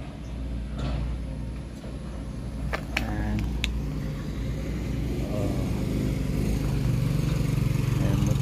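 A motorcycle rumbles by on a roadside stop near the lava trails of Mayon (Daragang Magayon), its low engine drone building steadily and growing louder toward the end, with a few faint clicks and no talk.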